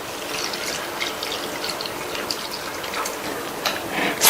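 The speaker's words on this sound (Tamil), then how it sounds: "இப்ப இது கூட நம்ம வடிகட்டி வச்ச வெள்ளைக்கரைசல்ல பாதி வெள்ளைக்கரைசலை சேர்த்துக்கலாம்." Strained jaggery solution pours into a gram flour mixture for a festival sweet, a steady close splashing trickle of liquid with no talk.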